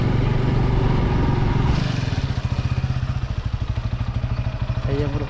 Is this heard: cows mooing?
no